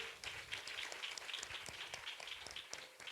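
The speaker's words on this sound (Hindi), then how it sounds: "एक बार फिर से जोरदार कली से ताली बजाएंगे" Church congregation applauding during a revival meeting, a steady wash of many hands clapping at moderate distance, fairly faint and even throughout.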